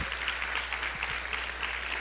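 A church congregation applauding the Lord during a sermon, steady close clapping spread evenly across two seconds over a constant low hum, with no voices.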